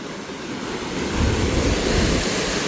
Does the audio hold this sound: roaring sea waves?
yes